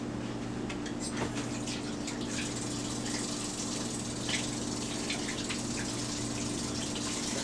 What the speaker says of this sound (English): Let me take a minute here and wash my hands.